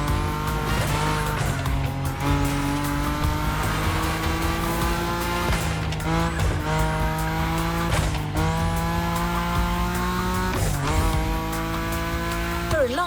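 A car drifting in the racing video game The Crew Motorfest: a loud engine drones and revs while tyres squeal in repeated long slides, with sharp pitch sweeps as the car shifts and swings through corners.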